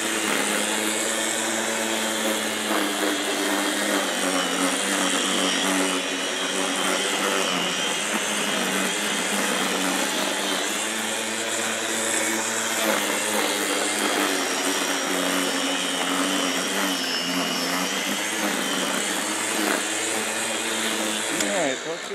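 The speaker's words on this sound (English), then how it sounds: "It looks like a mowed lawn, and that was done by a string trimmer." An MTC220 string trimmer whines steadily and loudly for the whole stretch, its motor pitch wavering slightly as it cuts through thick, overgrown lawn grass, close by.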